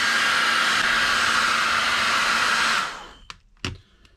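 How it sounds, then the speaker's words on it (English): A heat gun or hair dryer blows a loud, steady hissing airflow while warming a vinyl sticker on an Arrma Kraton 6S EXB V4 chassis protector, then shuts off and two brief handling knocks follow. "Next we're going to heat up the sticker."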